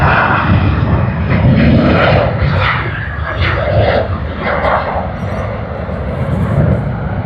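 A jet airliner takes off at Sydney Airport, its engines a loud, continuous broadband roar that fills the whole stretch with little change in level, heard from outside near the runway.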